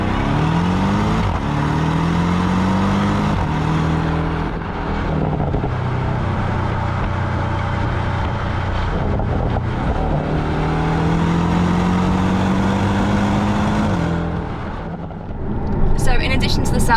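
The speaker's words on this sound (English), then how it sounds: "That turns the sports exhaust on, which gives it a more throaty sound" Porsche 718 Boxster with sports exhaust engaged in sport mode and a PDK gearbox revs in rising, throaty sweeps that climb and fall twice, loud and close, ending with a brief burst of higher noise.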